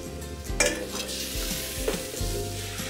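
Strained sherry and alpaca gravy poured back into a pot during an osso bucco braise, giving a soft sizzle and a few clinks of metal against the pot, with low rumbling handling noise and no talking.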